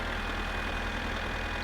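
A tractor engine in the My Summer Car video game drones steadily, a low monotonous hum with a faint rhythmic throb and no change in pitch, heard alone.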